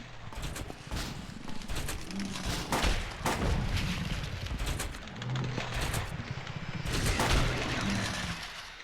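A burst of gunfire from the horror game Silent Hill 2 includes several sharp shots in quick succession, loud and close over a dense game soundscape with rumbling noise.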